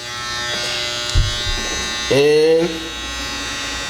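Andis Master hair clippers with a newly replaced power cord switch on briefly, giving a loud steady electric buzz of about half a second amid constant background hum. A single spoken word comes just before it.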